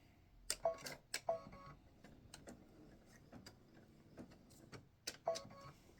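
Embroidery machine stitching black thread for a freestanding-lace hibiscus earring, giving faint, irregular mechanical ticks and clicks with quiet gaps between bursts, no voices.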